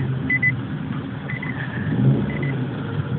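A car engine hums steadily from inside the moving vehicle, a low rumble with a light, even drone and no sharp changes.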